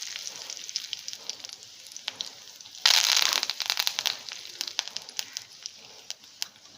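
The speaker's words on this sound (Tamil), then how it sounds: "நெக்ஸ்ட்டு வெந்தயம் சேர்த்துக்கிறேன். வரமிளகா ஒரு 2 வரமிளகா தாளிச்சுக்கிறேன்." Dried red chillies and fenugreek seeds temper in hot oil. A sharp, loud sizzle bursts up, then settles into quick, irregular crackling and popping close by.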